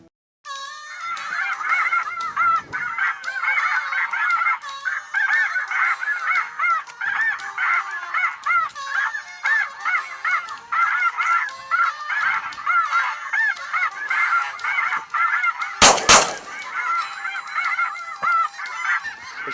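A flock of geese honks continuously and loudly during a conservation snow goose hunt, overlapping calls forming a dense chorus throughout, with a brief sharp burst near the end.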